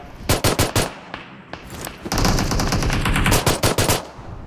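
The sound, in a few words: pistol gunfire in BGMI video game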